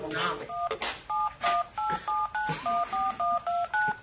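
A telephone keypad being dialed, a quick run of about a dozen crisp two-tone DTMF beeps in an uneven rhythm, loud and close, with a short stretch of talk at the start.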